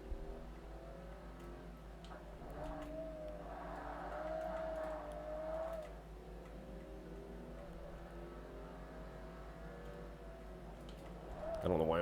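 Racing game on an Xbox: a car engine drones steadily, rising and falling with revs and gear shifts, fairly quiet and continuous, with a sharper revving burst at the end.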